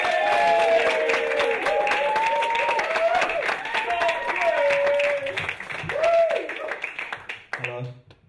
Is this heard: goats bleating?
no